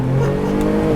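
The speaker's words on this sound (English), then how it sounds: "Well, let's give it a little acceleration here and see how it does." A 2017 Jaguar XE 35t R-Sport AWD with a 340-horsepower engine accelerates hard, its loud, steady engine note rising close up and filling the whole second without a break.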